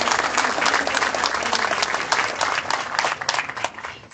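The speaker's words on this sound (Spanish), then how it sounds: "Prevost, obispo de la diócesis de Chiclayo, para quien pedimos un fuerte aplauso" Audience applause at a civil society event in Chiclayo, Peru, marking the Puerto Eten regional port terminal: steady, dense clapping from a sizable crowd, sustained throughout and tapering slightly near the end.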